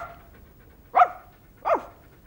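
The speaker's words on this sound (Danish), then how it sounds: "Hva slags lyd av hunden" A single dog barks twice, two clear separate woofs less than a second apart, close and loud in a quiet indoor room.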